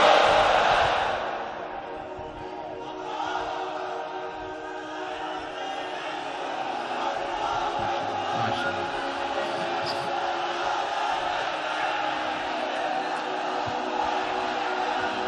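Large crowd at a religious sermon answering a takbir call, a loud collective shout at the start that fades into sustained murmuring and distant crowd noise.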